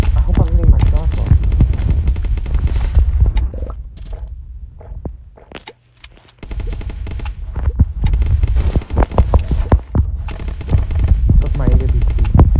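Heavy, rapid gunfire from the video game Zombs Royale booms in dense bursts, breaking off briefly mid-way before resuming, with a player talking over the shooting.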